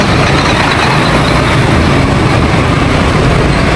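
Heavy traffic on a congested road, with trucks and buses idling and rumbling close by in a dense, steady roar and no voices.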